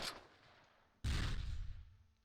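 A single loud cannon blast from the Close Combat war game erupts after a faint hiss, its boom rumbling and decaying over the next second with no talk.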